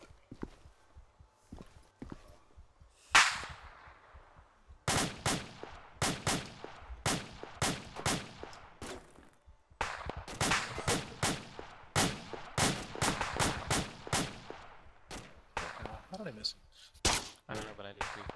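Rapid bursts of gunfire from a first-person shooter game, sharp repeated shots in clusters, with players talking over the action throughout.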